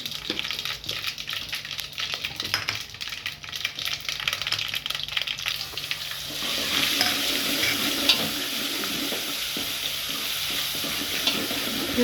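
Cumin seeds hitting hot oil in a pan while cooking kadhi, a loud, busy sizzle with stirring clatter that swells and thickens partway through, close and continuous with no talk.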